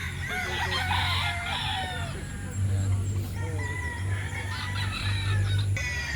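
At a poultry market in Calauan, Laguna, several chickens, including Boston Yellow Legend birds, cluck busily while a rooster crows loudly nearby, with a steady low hum and faint voices in the background.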